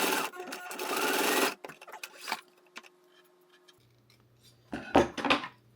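Sewing machine stitching a buckle strap in a loud, rapid run that stops abruptly. Light clicks and handling noises follow, then a second short burst of stitching.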